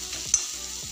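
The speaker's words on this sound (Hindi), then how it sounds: "इसको हम थोड़ा सा भून लेंगे, हमारा भून रहा है" Masala for chole fries in a pan, a short stretch of soft steady sizzle with a single sharp utensil tap near the start.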